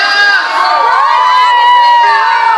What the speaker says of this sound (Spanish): Yo quiero escuchar fuerte el grito de las soltera de esta noche.